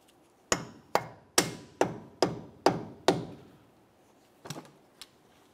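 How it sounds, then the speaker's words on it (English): Sharp hammer blows drive a cover into place on a 2001-2005 Ford Explorer Sport Trac at the front wheel, seven evenly spaced ringing strikes close by, then two lighter taps. "Now we're just going to go ahead and drive that cover on there as far as it can."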